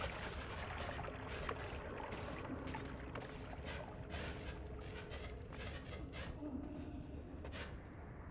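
Water draining into a freshly dug cavity in the pixel-physics game Noita, a continuous gurgling, splashing pour with scattered crackles and pops, fairly faint and steady throughout.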